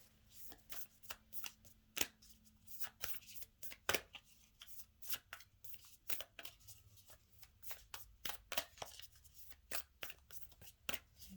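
Close, quiet riffling and slapping of a tarot card deck being shuffled repeatedly in quick bursts, with no voices.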